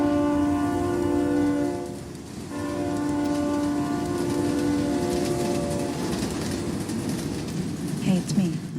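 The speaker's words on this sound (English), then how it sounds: "I'm on a train." Interior of a moving train in a film scene, with a steady low rumble and sustained tonal hum running throughout, a brief dip near the start, and faint clatter toward the end.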